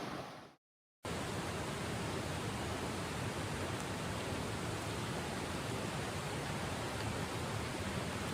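Steady rain falling outdoors along the SC-NC border in the Piedmont, a dense, even hiss that holds loud and unbroken after a brief moment of silence near the start.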